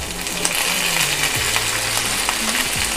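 Dried salt ribbon fish frying in a pan with onions and garlic, a loud steady sizzle with crackles and occasional scraping of stirring, no talking.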